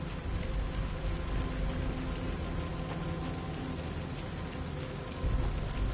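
Steady rain falling in the Alan Wake 2 video game, a continuous dense hiss of drops on surfaces with a low rumble underneath, constant and close, no voices.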